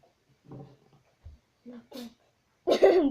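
A single sharp sneeze bursts out near the end, loud and close, following a few quieter voices and small noises in an indoor room where slime is being made.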